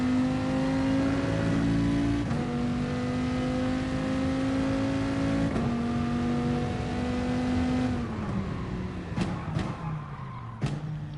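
Race car engine in Gran Turismo Sport holding a steady high whine, with the pitch stepping up through several gear changes, then dropping and sputtering under hard braking near the end; close and continuous.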